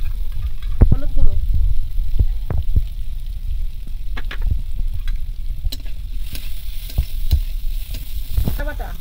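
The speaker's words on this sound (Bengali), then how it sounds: "এবার ভালো করে একদম সব মশলা কষিয়ে নেব" Ground spices with crushed garlic, turmeric and chilli powder sizzle steadily in a pan for a Bengali cabbage and prawn ghonto, with intermittent scraping and stirring clatter.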